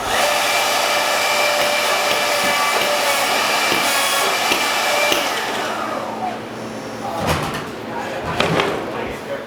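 A 950-4 door jamb machine in a three-head setup runs with a loud, steady whine and roar, then spins down after about six seconds, followed by heavy clunks and thuds as the clamps release.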